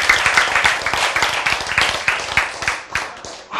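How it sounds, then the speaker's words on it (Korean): A congregation claps in unison at a sermon on the sanctuary. The claps are dense, rapid and fairly loud, with no talking over them, and they taper off toward the end. "박수!"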